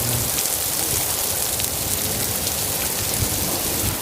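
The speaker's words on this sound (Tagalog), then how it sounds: "Grabe, grabe yung ulan." Heavy rain pours down steadily in Abu Dhabi, a dense continuous hiss of drops striking surfaces, loud and unbroken with no voices.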